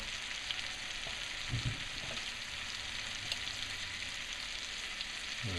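Lingcod caught in Alaska fries in butter in a pan, giving a steady broad sizzle throughout with a few soft low thumps and bumps partway through, no voices.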